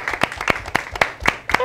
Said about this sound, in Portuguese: Palmas aí, estúdio!